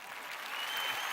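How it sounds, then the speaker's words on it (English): Canned clapping from a soundboard: a steady, dense wash of applause and light crowd noise, fairly quiet and unbroken for about a second, with no voices over it. "clap."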